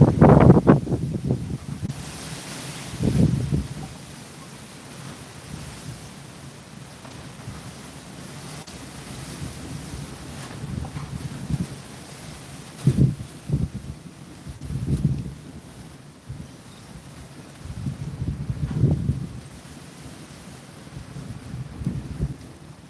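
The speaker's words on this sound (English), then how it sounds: "Oh, that wind." Gusty wind blows outdoors beside a fire pit chimenea, buffeting the microphone in low rumbling surges that rise and fall several times over a steady background hiss.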